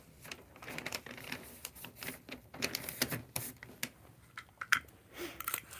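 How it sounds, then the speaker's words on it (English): Paper crackles and rustles while tape is pulled and pressed during work on a cardboard puppet box prop, giving irregular crinkling bursts and short tearing sounds, close by, with no talk over them. "This paper's so noisy too."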